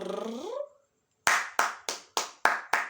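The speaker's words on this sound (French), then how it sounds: "Des tonnerres d'applaudissements pour l'amour." A brief voice trails off, then a pause, followed by six sharp, evenly spaced hand claps close to the mic.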